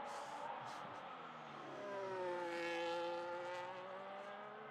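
Formula 1 car engine in F1 25 at the Hungarian GP practice, a sustained high-pitched whine whose harmonics sweep upward and fall as the throttle rises and eases, fairly faint and continuous.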